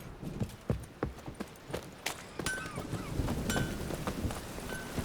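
The horse Roach gallops in The Witcher 3: Wild Hunt, with rapid hoof beats thudding in a steady running rhythm up close over wind and ambient game noise, and a short snort or whinny mixed in.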